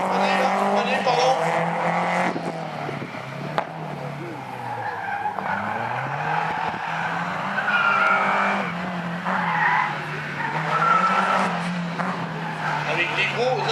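Slalom race car at Agon-Coutainville braking hard with the front wheels locking: loud continuous tire skidding and squeal with a revving engine, close and sustained, under steady commentary.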